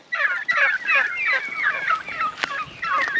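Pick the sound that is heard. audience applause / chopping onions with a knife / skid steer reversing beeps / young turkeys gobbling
young turkeys gobbling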